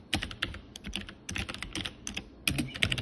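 Quick bursts of typing on a computer keyboard, crisp clicky keystrokes in short irregular clusters, close and fairly quiet, with no talk.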